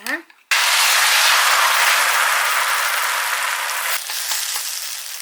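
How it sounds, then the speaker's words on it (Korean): Two eggs hit plenty of hot oil for scrambling, setting off a sudden loud, dense sizzle that holds steady and close, with a brief voice just before. "자 기름을 충분히 두르고 계란 두 개를 스크램블 할 겁니다."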